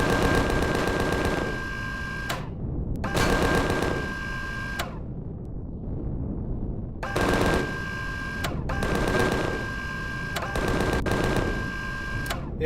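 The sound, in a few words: gunfire at hovercrafts in Empyrion Galactic Survival video game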